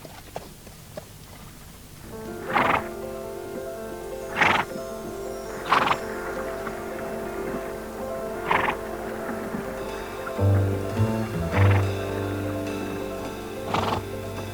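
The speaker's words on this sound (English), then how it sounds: "Swimming horses is a highly effective means of keeping them fit" Racehorses swum in Breakfast Creek in Brisbane, Australia, with repeated whinnies and neighs over a steady background of water and movement, moderately close.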